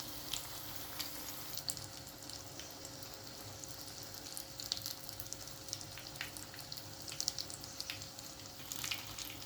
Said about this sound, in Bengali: একটা পিঠ ভাজা হয়ে গেছে, একটা উল্টিয়ে দিলাম। এই পিঠটাও ভালো করে ভেজে নেব।